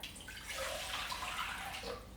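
Warm water poured from a cup into a pot holding a dry amaryllis soil disc, a continuous soft splashing trickle that swells slightly midway and stays steady and fairly quiet throughout, with no voices.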